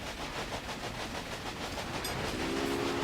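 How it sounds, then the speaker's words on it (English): A train pulls away in the Railway Empire railroad simulation game, a steady rumbling roll with a rhythmic clickety-clack and a faint hiss, loud and continuous, with a brief high whistle-like tone near the end. "you can see the signal drop and that train is off and running"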